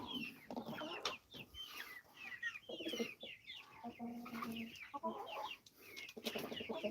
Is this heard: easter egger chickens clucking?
yes